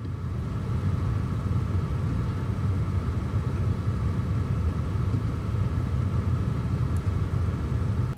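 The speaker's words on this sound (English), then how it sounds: "You're gonna hear the six fans at their 750 RPM." Six fans of a Corsair H150i liquid cooler spinning at 750 RPM, producing a steady, even low whooshing hum with no change in level throughout and no voices.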